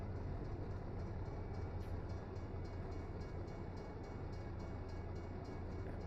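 A train rumbles at a station in the American Truck Simulator game: a steady, loud, low drone that holds throughout with no pauses.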